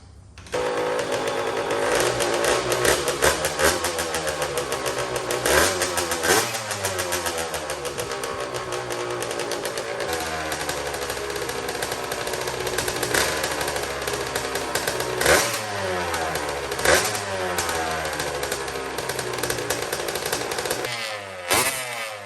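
A rebuilt Honda CR85 two-stroke engine in a custom TRX90 build runs loud and close, buzzing with repeated throttle blips that rise and fall in pitch, plus clattery mechanical noise, with no talking.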